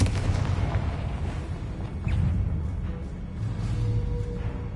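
Confringo blasting spells exploding in the Hogwarts video game, a series of deep booming bursts with rumbling low end, repeated several times across the moment at fairly loud level.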